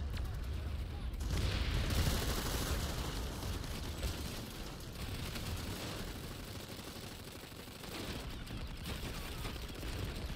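Heavy, overlapping gunfire in the PS5 shooter Planetside 2, with bursts of automatic shots and louder surges over a steady battle din, while a voice talks over it.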